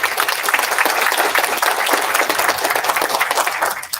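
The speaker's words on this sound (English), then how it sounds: "So if you could give a round of applause for the people that are here volunteering," Audience at a Slave Lake, Alberta community meeting applauds the volunteers, a dense, steady round of clapping that holds evenly for its whole length with no talk over it.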